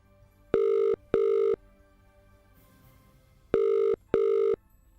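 A telephone rings in two double-ring bursts, each pair a steady, clear electronic tone separated by a short pause, with quiet background and no talking.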